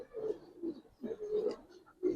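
Giribaz pigeons, a male and female pair, give low, throaty coos close by, several soft rolling calls in a loose repeating rhythm with short pauses between them.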